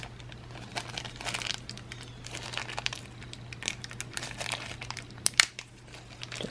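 Plastic packaging being ripped and crinkled off book rack parts, close and crisp, with irregular crackling bursts and one sharper tearing snap near the end, no talking.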